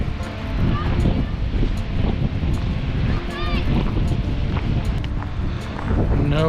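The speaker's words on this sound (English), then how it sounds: "the further I go out on this jetty, the windier it's getting" Wind gusting across a seaside jetty, a steady roar of broadband rushing noise with surf and water motion beneath it, loud and continuous throughout, with faint human voice mixed in.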